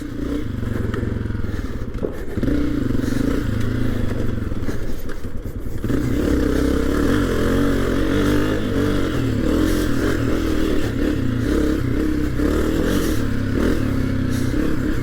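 A 2022 Honda CRF250F dirt bike runs close by on a tight trail, its engine revving up and down continuously with clattering and scraping from the ride throughout.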